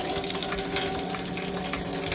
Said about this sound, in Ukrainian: соку натурального яблучного, свіжовижатого тече